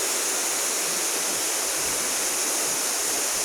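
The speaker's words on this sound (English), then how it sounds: "But it's a higher waterfall" A waterfall in Laos roars with a loud, close, unbroken rush of falling water that holds steady throughout, with no voices.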